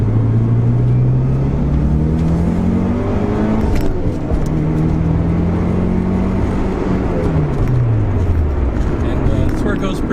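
A Mitsubishi Lancer EVO III engine revs repeatedly, pitch sweeping up toward 7,000 RPM and falling back, loud and close, with someone talking over it.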